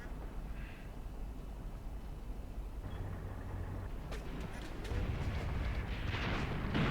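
Artillery and gunfire rumble from a battle in the Graviteam Tactics war game, with an infantry division's gun firing. Dull booms sit in a constant low roar, and the din thickens toward the end.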